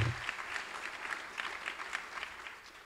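An audience at a university homecoming kick-off applauds, a steady, moderately distant patter of many hands with small swells, no talking over it.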